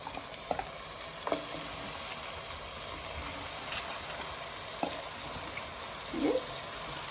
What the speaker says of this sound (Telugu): దీనిలో వేసుకొని ఒక పావు గంట సేపు దానిలోనే ఫ్రై అవనివ్వాలండి